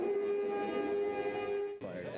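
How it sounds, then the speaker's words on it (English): A distant wailing air raid siren in Haifa holds a steady tone, then shifts abruptly near the end. "As we stood outside the destroyed apartment, another series of sirens."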